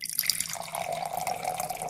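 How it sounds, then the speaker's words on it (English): Water runs from a kitchen tap into a glass, a steady pouring hiss that settles into an even stream after a brief clink at the start, close by with no voices. "She finds a glass, although clangs with another, fills it with water."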